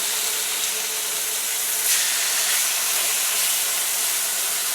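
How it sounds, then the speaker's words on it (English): Beef liver searing in a hot pan gives off a steady, even hiss and sizzle, close and continuous throughout, with no talking. "I'm going to give this as quick a sear as I can manage. I hope the pan is hot enough."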